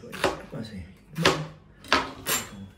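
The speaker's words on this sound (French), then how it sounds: "Voilà, coupage d'oignon." An onion being chopped with a knife for a quiche Lorraine, four crisp cutting knocks on a board at an uneven pace, close by in a quiet kitchen.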